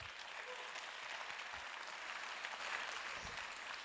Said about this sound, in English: can we give Lee a round of applause for this event?